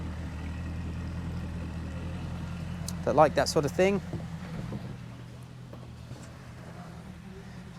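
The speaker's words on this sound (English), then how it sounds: "you can just hear the engine now running, a little bit more sporty sounding" Idling inboard engine of a 2021 Axopar 28 Cabin boat with a sporty exhaust, a steady low rumble running throughout, with someone talking briefly over it midway.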